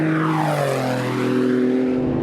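Porsche 911 GT2 RS engine screaming at high revs on a race track, a loud, close, sustained howl with gliding engine tones and no talking.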